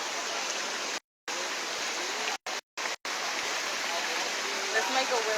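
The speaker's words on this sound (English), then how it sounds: "That waterfall looks so relaxing." Rushing water pours as a constant broadband roar, broken by several abrupt silent gaps where the sound cuts out.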